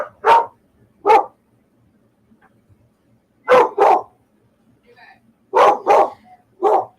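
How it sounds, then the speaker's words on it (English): A pet dog barks in separate bursts, single and paired yips and woofs spread across the stretch with quiet gaps between, close and fairly loud indoors; a few faint small sounds sit in the pauses. "I had to get my dog to shut up"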